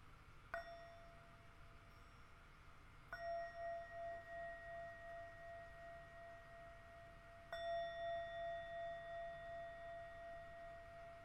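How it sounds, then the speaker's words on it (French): A small bell used in a coaching session is struck three times at uneven intervals, each ding ringing out clear and fading slowly over a quiet background. "Je vais sonner la cloche 3 fois pour vous inviter à revenir au moment présent."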